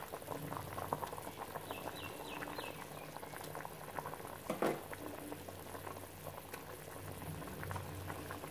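Vada curry gravy bubbles at a steady rolling boil in a pot, a continuous close patter of popping bubbles with a soft low rumble beneath and one brief clunk midway.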